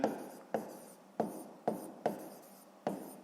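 Pen or pencil writing a number on paper during a sixth-grade math exercise: a series of six sharp scratchy strokes, each fading quickly, close and quiet, with no talking.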